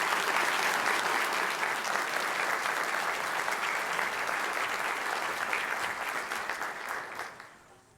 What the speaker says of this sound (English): please join me in a round of applause to thank everyone who has worked to make